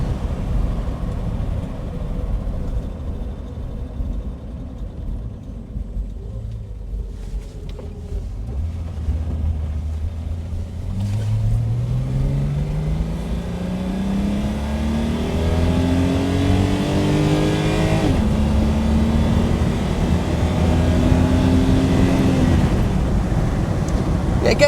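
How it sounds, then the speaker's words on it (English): Inline six of a 1967 Mercedes 250SL Pagoda pulling through the gears, engine note climbing in several rising sweeps with brief shift dips, steady cabin hum underneath, growing louder toward the end. "Let's just take it up through the gears again."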